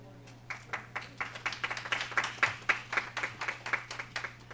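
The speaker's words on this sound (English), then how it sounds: "It may be the last time you get applause at an MTA." Scattered hand claps from a small meeting audience build into brief, steady applause for guests being introduced, fairly quiet and moderately close, with a low hum underneath.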